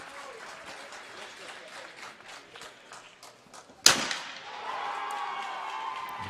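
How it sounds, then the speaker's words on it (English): British supporters at a trap shooting final in Croatia burst into a sudden loud cheer and applause after a sharp shotgun crack, the crowd noise then lingering in the distance. "Big cheer from the British contingent"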